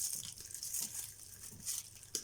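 A plastic bag crinkles and rustles continuously while string is wound around it, close and steady, with small crisp bursts throughout.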